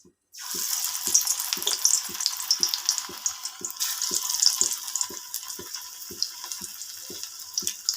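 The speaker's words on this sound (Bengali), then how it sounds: "এবার আমি একে একে বড়াগুলো দিয়ে দেবো।" Small flattened lentil fritters (bora) drop one by one into hot oil in a pan and sizzle steadily, with a bright crackling hiss and regular soft thuds as each piece goes in, close and without talk.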